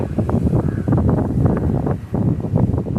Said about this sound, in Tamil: காற்று நல்லா இருக்குது.